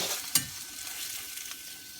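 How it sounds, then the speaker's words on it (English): Tofu and vegetables with ramen noodles being stirred in a sizzling pan, a steady fry hiss with one sharp scrape of the utensil early on and a few lighter clicks after. "I stir it around, stir it. Stir it real good!"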